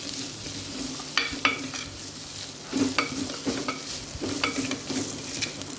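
Onions and asafoetida frying in a pan, a steady soft sizzle with intermittent scrapes and clinks of a spoon stirring, close and moderately loud with no talking.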